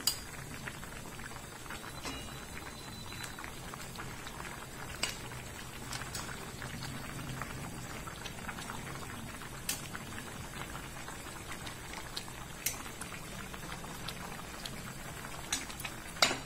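Modak dumplings simmering in a pot of spicy Vidarbha-style amti, with soft bubbling and scattered pops and ticks, quiet and close, no voices.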